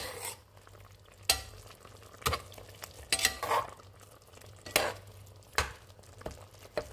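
A spoon stirs a pan of chicken and pork adobo simmering in coconut milk, with sharp scrapes and clinks against the pot at irregular intervals over a low, steady bubbling sizzle.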